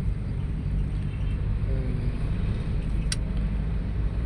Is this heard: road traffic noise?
yes